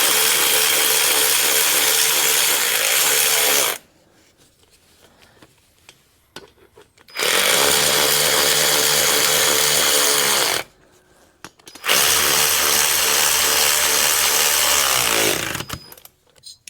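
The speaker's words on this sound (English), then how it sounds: "I like my ratchet" A power ratchet drives head nuts on a 2005 Harley Davidson Road Glide, three long, loud, close buzzing runs of several seconds each separated by quiet pauses.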